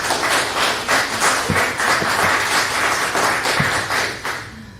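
Applause from the audience at a school board meeting: a sustained crowd of clapping hands, moderately loud and fairly close, with a few heavier thumps mixed in before it tapers off.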